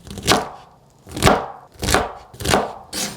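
A knife cuts through string beans (sitaw) on a cutting board in five crisp, evenly spaced chops, close and clear with no talking.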